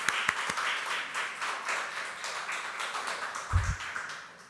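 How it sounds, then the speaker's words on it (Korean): Scattered clapping from a church congregation during a Sunday service, a few sharp claps at first then a light, uneven patter of many hands, with a low thump near the end. "우리 하은이한테 한번 축복의 박수 한번 보내드리겠습니다."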